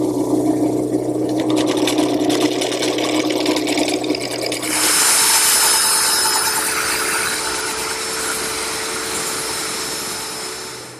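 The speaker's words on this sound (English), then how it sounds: "now I've turned to this scraper. It's a round nose scraper." A round nose scraper smooths the inside of a wooden bowl turning on a lathe, giving a steady loud whirring, scraping hiss that carries on without a break, with the tone brightening partway through.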